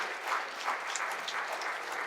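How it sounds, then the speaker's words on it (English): An audience claps in a lecture hall at an entrepreneurship event, a dense, even round of applause sustained across the whole stretch at steady loudness, no voices over it. "A round of applause, please."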